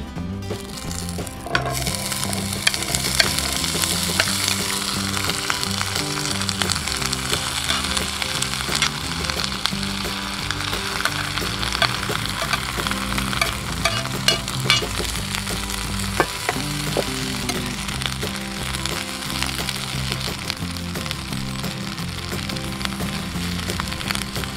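Chilies fry in hot oil for a fiery Indonesian sambal, a loud, continuous crackling sizzle that stays close and steady throughout, with faint stirring underneath.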